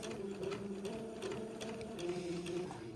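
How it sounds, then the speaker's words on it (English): A sewing machine stitches a sleeve seam around an armhole at a slow, steady pace, its motor hum and needle clatter running continuously and close for the whole stretch, moderately quiet with no speech. "I'm simply going to sew this seam all the way around as if I were sewing something onto the armhole opening"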